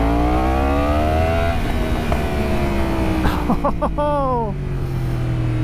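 A 2016 Yamaha R1 sport bike revs hard, its engine note sweeping down, then blipping through several quick sharp rises and falls, loud and close, with a brief exclamation from a rider.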